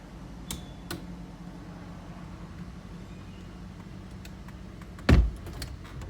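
A Cadillac XLR's retractable hardtop folds away at a self-serve car wash, with a low motor hum and a few clicks, then a loud mechanical thunk near the end followed by lighter latching ticks.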